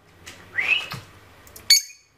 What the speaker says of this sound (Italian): Fai un fischio. Fischia.